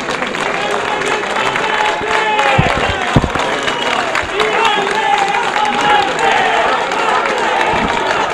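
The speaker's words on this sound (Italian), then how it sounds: "Accogliamo il nostro Salvini con un grande applauso" A crowd clapping and cheering steadily throughout, loud and dense, welcoming Matteo Salvini at the opening of a Lega party office in Avellino, Italy, with an Italian voice over a public address carrying over the applause.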